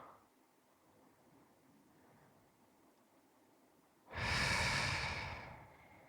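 A person takes a slow, soft breath in during a guided relaxation exercise, then lets out one long, loud, airy exhale close to the microphone that fades gradually.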